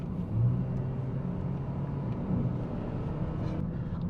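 A high-mileage Hyundai Veloster accelerating hard on a test drive, a steady low engine rumble with road noise heard from inside the cabin, swelling briefly as it pulls.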